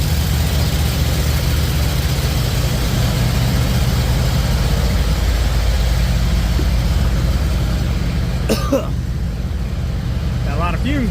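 Several engines idling together indoors, including a small Kawasaki, a steady loud low rumble throughout with people talking over it and a few brief squeaks near the end.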